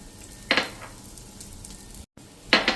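Oil drizzled over cabbage idli batter in an appe pan sizzles in two short, bright bursts about two seconds apart, close by in a quiet kitchen.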